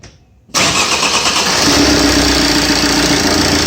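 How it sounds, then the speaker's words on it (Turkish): A car engine fires up after an engine rebuild: a sudden starter catch, then a loud, steady idle close by, running evenly for a few seconds. "çalıştır bakayım arabayı"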